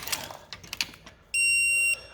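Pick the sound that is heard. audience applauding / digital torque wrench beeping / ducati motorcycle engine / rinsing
digital torque wrench beeping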